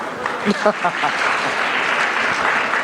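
A crowd claps steadily throughout, a dense wash of applause with a few louder hand claps near the start.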